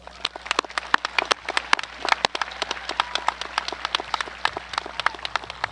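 An audience at a high school graduation ceremony applauds the parents, giving sharp, dense, irregular clapping that stays steady and fairly close for several seconds.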